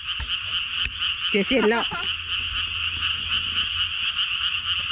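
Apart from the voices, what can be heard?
frogs croaking at night in Korea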